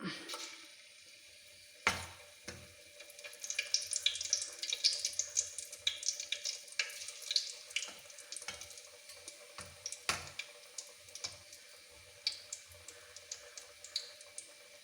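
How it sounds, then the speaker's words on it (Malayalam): Cauliflower fries crackle in hot oil as another batch goes in, with a faint, busy sizzle broken by a few sharp clatters of utensil on pan. "അടുത്ത ട്രിപ്പ് കൂടി എടുത്ത് ബാക്കി അതുപോലെ നമുക്ക് ഫ്രൈ ചെയ്തെടുക്കാം"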